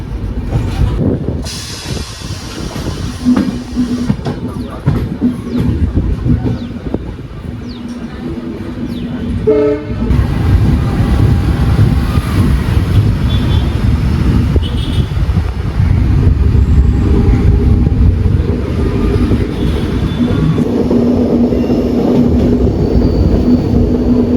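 The Gol Gumbaz Express, a sleeper-class passenger train, running through a station at speed, with a loud continuous rumble and clatter of wheels on rails, brief squeals and tonal horn-like notes, heard from on board.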